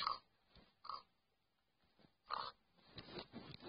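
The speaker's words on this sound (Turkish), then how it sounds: "Şu an 1 milyon tane domuz var." Several short Minecraft pig grunts and snorts in quick bursts, fairly faint, with quiet pauses between them and a busier cluster of oinks toward the end.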